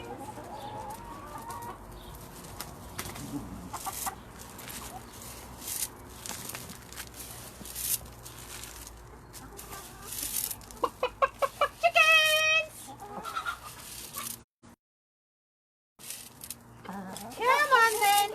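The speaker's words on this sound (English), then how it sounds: "Come on, chickens." Farm chickens cluck in short bursts at an outdoor feeding, with a rapid run of clucks near the middle and more toward the end, mixed with a person talking and a brief silent gap.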